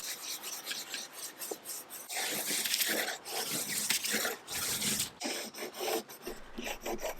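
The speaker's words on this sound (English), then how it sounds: "the reason you can hear this breaking is because of the score line underneath" Continuous rasping, crackling scrape of thin wood veneer splitting along a score line and rubbing, close up and fairly loud, with short sharp snaps scattered throughout.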